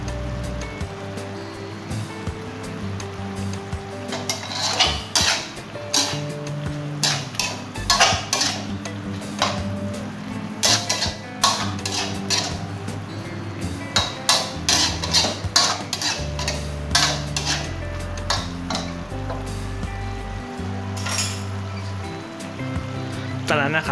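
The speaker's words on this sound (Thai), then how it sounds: "ก็ทำการผัดจนให้หมูสุกเลยนะครับเพื่อน" Pork stir-fried in a pan with red curry paste and long beans. A spatula clanks and scrapes against the pan in irregular bursts, and a voice talks at times over the cooking.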